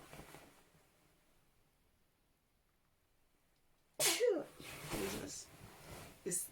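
One sharp, loud sneeze bursts out after a long near-silent stretch, followed by a few softer breathy sounds.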